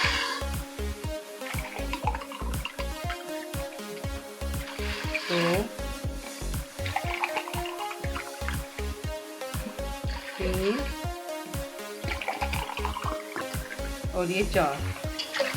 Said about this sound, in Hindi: मैं इसमें पानी डालने लगी हूँ।